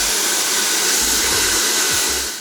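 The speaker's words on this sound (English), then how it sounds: "get your hairdryer ready and start blowing the edges" Hairdryer blowing hot air onto the edges of a phone screen protector, a loud, steady broadband whoosh running the full length and easing off slightly at the end.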